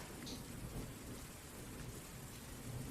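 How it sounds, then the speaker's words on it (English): Steady rain pours across a surface with low rumbling thunder rolling underneath, a dense, continuous stormy ambience effect with no voices. "This rain's never gonna let up, is it?"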